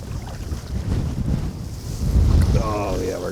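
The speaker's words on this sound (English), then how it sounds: "Yeah, look at this wind." Strong wind roars over the microphone on open water from a fishing boat, a loud steady rumble with gusts, and a voice speaks briefly near the end.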